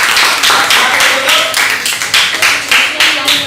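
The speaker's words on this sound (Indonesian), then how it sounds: "tepuk tangan buat kelompok 4" Group clapping for group 4 after a class presentation, a pulsing run of claps with regular swells and dips, fairly close and steady throughout.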